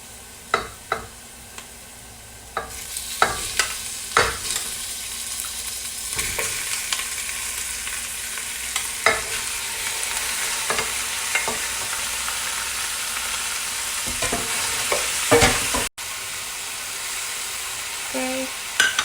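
Beef for caldereta hits a hot pan and breaks into a loud, continuous sizzle that holds steady for many seconds, with occasional scrapes and clanks of stirring before it briefly cuts out.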